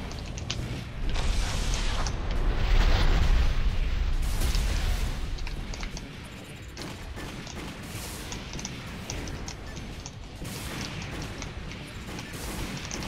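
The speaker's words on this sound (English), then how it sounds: "And explosion." Explosion in the mech combat game Armored Core, a loud rumbling burst that swells for several seconds, then settles into steady background game noise.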